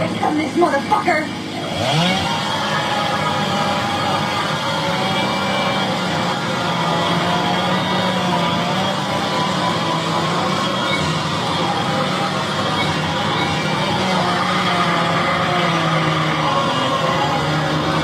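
In a horror film kill scene, a chainsaw roars at full throttle, a loud, sustained, buzzing drone held for many seconds, with screams and chaotic noise mixed in after a short rough start.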